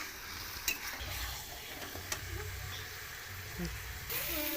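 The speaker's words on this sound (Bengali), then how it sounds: "মাংসটা আর আলুটা ভালো করে কষিয়ে নেওয়া হলো" Meat and potatoes are stirred and fried in spices for a curry: a constant close sizzle with scraping spoon strokes and a few sharp clinks against the pot.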